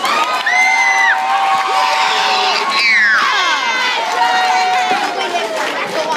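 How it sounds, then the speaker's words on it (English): An audience at a question-and-answer session cheers and whoops with excited, shouting voices. Crowd chatter and loud calls continue throughout, but distinct clapping is hard to pick out. "Let's give a round of applause."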